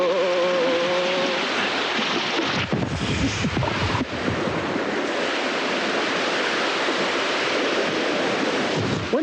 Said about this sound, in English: I was up to my neck in water again in Wales when I had my first experience of wild water canoeing.